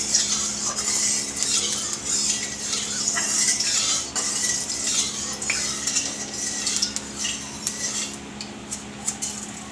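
Panch phoron spices fry in hot oil in a kadai while cooking chire pulao, a steady bright sizzle mixed with scraping and clinking as a metal spatula stirs.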